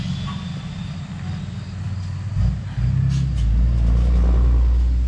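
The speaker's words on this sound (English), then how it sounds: "So wait for this truck to go by." A truck passes along a farm road, its low rumble swelling from moderate to loud and close as it drives by, with no talking.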